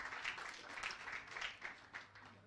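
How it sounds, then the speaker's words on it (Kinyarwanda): An audience at a ceremony honouring top-scoring pupils in national exams claps steadily, a faint, even patter of many hands heard at a distance with no clear speech. "Nuko mubaha amashyi."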